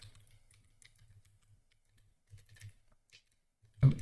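Soft, close computer keyboard typing while Haskell code is written, with scattered irregular keystroke bursts and short pauses, ending in a louder thump.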